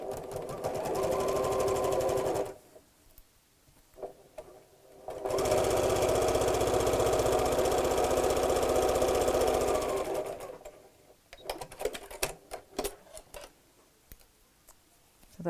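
A domestic sewing machine stitches a zip onto a patchwork purse without a zipper foot: a steady, close whirring run, a pause with light handling, a second longer run, then scattered clicks and rustles.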